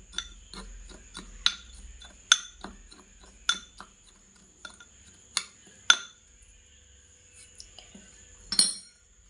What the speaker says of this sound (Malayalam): എന്നിട്ട് നന്നായി മിക്സ് ചെയ്യാം.